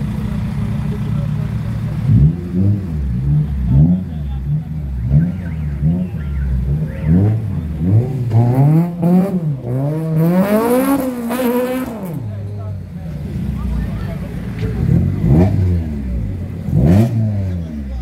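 Street racing cars, including a Toyota Corolla, rev and accelerate near a gas station in Iron Shore, Montego Bay, Jamaica, their engines rising and falling in repeated loud sweeps that peak in a long climbing run, with voices underneath.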